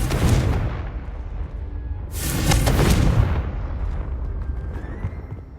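A Confringo blasting spell bursts in Hogwarts Legacy, a booming fiery explosion that swells and rumbles for a couple of seconds before fading into a lingering low crackle.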